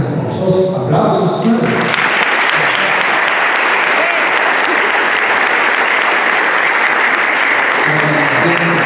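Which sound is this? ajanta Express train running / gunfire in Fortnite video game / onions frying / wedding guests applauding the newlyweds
wedding guests applauding the newlyweds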